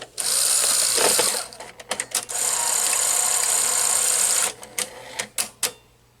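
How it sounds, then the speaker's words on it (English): The tape-loading mechanism of a Sony GCS-50 industrial Betamax editing VCR whirs steadily for several seconds, followed by a series of mechanical clicks and clunks, close and clear. "So now I can insert the tape and show you the mechanism in action."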